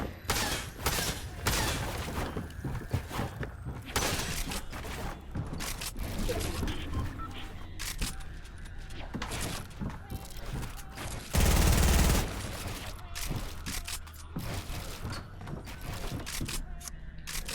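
Gunfire in the video game Fortnite crackles in rapid bursts and single shots across the whole stretch, with one louder sustained blast near the middle, while someone talks excitedly over the action.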